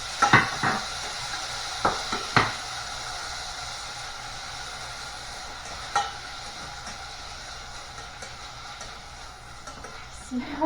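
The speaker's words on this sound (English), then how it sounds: "Now I will put tomato inside, so we can saute tomato a little bit." Chopped tomato sautéing in a pan for tomato egg drop soup: a steady low sizzle runs throughout, with a few sharp clinks of a utensil against the pan near the start and end.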